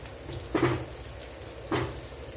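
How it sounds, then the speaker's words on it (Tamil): Snake gourd chips frying in a little oil, a soft steady sizzle close by with two brief louder bursts as pieces are stirred or moved. "கொஞ்சமாக எண்ணெய் விட்டு பொறிச்சா போதும்"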